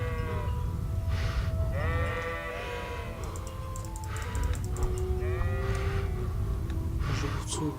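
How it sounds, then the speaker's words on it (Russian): Sheep bleat repeatedly in the medieval video game Kingdom Come: Deliverance, several wavering calls scattered across a steady low rumble, with faint clicks in the background. "Ну, овцы."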